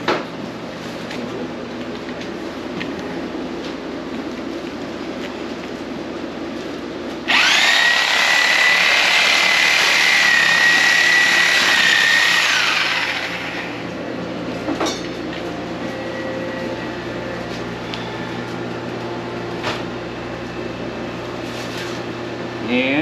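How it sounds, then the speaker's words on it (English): A Sawzall reciprocating saw cuts through whitetail deer bone during butchering, a loud, close, steady buzzing whine lasting several seconds after a quiet stretch, then dropping back to low room noise with faint handling sounds. "I'm going to use a Sawzall and just cut this bone right here"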